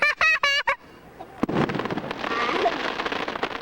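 Fireworks go off outdoors at night: a sharp loud bang followed by a dense run of crackling bursts, preceded by a few short vocal calls.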